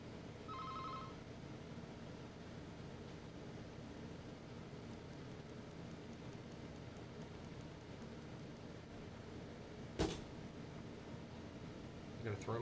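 A phone rings briefly near the start, a short electronic trill over a steady hiss of room noise, followed by silence from the phone and a sharp knock or click later on.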